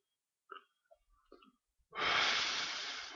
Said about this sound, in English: So, this is how I smoke a bowl.